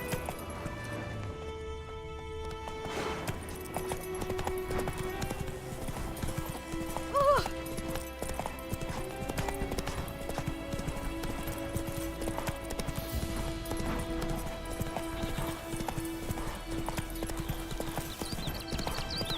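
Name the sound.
horse hooves clip-clopping, Witcher 3 Wild Hunt video game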